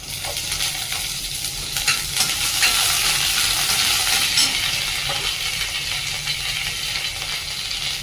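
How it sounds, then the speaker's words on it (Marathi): Mustard seeds, cumin and garlic sizzle in hot oil in a home kitchen, a steady close hiss with faint popping throughout, slightly swelling midway, no voices. "अशा पद्धतीने मोहरी, जिरे आणि लसूण टाकून घेतलेला आहे."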